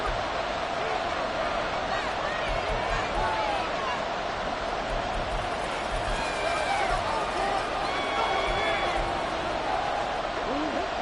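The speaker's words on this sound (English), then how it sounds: "the crowd here at MetLife Stadium in full roar" A packed stadium crowd roars steadily through a football game at MetLife Stadium. The broad, continuous roar fills the background under an announcer's commentary.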